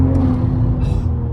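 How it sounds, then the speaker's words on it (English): BMW Z4 engine and intake droning steadily from inside the cabin while driving hard, a constant low rumble with a brief higher rasp near the end. "Oh, the intake manifold."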